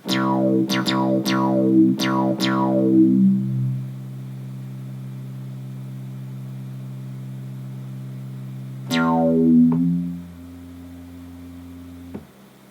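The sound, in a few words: synthesizer with heavy reverb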